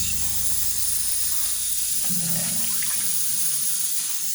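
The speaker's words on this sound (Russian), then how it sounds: "Уже слышно, что-то шипит." A pressurized tractor diesel engine fuel pump, of the D-240 or D-65 type, gives a steady, soft hiss from a leak under about 3 atmospheres of pressure, continuous and close with a faint watery spray quality.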